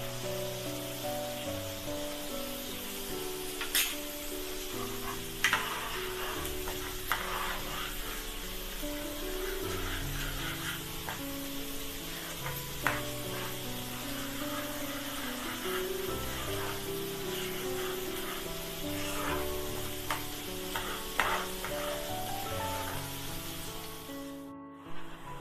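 Masala of red chilli powder, green chilli and salt roasting in a pan for shahi paneer, a steady sizzle broken by scraping stirs, with background music running throughout and no talk.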